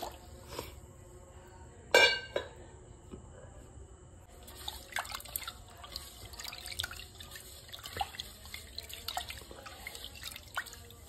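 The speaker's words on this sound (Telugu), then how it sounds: "నీళ్ళు పోసేసి కడుక్కోవాలన్నమాట నీట్గా" Rice washed by hand in water in a bowl, close wet swishing and sloshing with irregular drips and clinks, a sharp splash early on, then busier rinsing sounds later.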